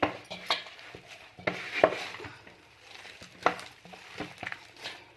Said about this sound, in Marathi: आपण हा गोळा व्यवस्थित मिक्स करून घेणार आहोत.